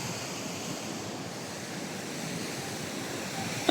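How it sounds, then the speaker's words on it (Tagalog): A strong river current rushes in a continuous, even roar of broadband water noise that fills the whole stretch without a break and swells slightly toward the end. "Oh, ang lakas ng ilog!"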